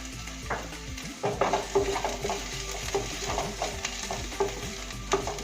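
Crushed ginger and garlic fry gently over a low flame, a soft continuous sizzle with repeated spoon stirs and scrapes against the pan, close and without voices.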